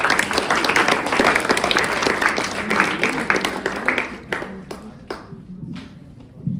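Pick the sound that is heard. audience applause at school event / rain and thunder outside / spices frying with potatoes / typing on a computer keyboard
audience applause at school event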